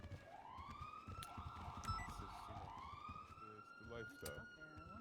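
Police sirens wail in a Grand Theft Auto V city street scene, rising and falling tones repeating loudly with a rapid yelp near the end, while people talk underneath.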